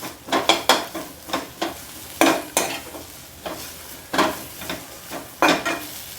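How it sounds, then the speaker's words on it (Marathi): Kevla wild greens being sautéed in a pan, with repeated scraping stirs and a soft sizzle coming in irregular bursts, close and fairly loud, with no talking. "चांगलं परतून घ्यायचं"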